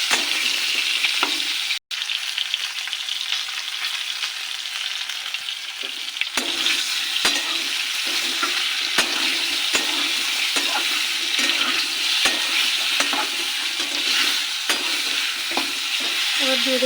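Potato and cauliflower pieces fry in oil in a pan with turmeric, giving a loud, steady sizzle throughout, with occasional scrapes and taps of stirring close by.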